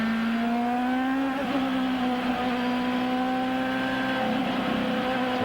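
IndyCar race car engine at the 1997 U.S. 500, a loud sustained high-pitched whine holding steady with slight pitch wavers and a brief dip, heard alone without talk.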